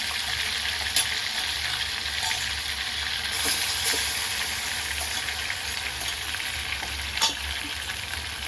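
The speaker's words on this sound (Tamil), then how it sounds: "நல்லா பட்டர்லேயே டீப் ஃப்ரை பண்ணணும்." Chicken pieces deep frying in butter over high flame, a continuous dense sizzle and crackle up close, with occasional sharp pops and light clinks throughout.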